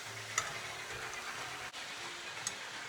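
Chopped mutton liver goes into a pan of softened, frying tomatoes, with a low steady sizzle, a couple of light utensil clicks and a soft stirring scrape.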